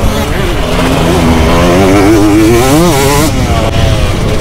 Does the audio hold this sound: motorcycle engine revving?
yes